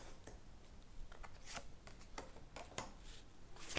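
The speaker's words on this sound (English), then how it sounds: "So what I'm going to do is just pull 3 cards to see where we've been" Tarot cards being shuffled and drawn, with soft papery riffles and quick flicks and slaps coming in irregular bursts, close and fairly quiet over a faint steady background.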